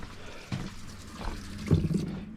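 Water runs from a household hot water tap as trapped air is purged after a water heater fix, an irregular gurgling flow with spurts and sputters.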